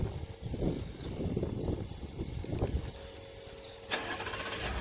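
A Ford F-150 pickup truck engine cranks and turns over, its rough churning building up before settling into a running rumble near the end.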